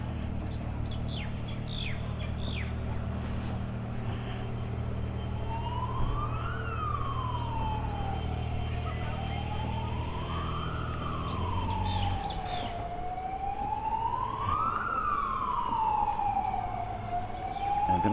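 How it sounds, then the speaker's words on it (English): An ambulance siren wails in long rising and falling sweeps over steady street traffic rumble in Innisfail, Queensland, Australia, loud and fairly close, with faint bird chirps in the background. "Ambulance."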